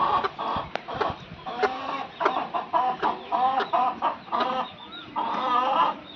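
Young chicks of a country breed cluck and cheep repeatedly in short, close calls, a busy overlapping run of bird sounds with no talking.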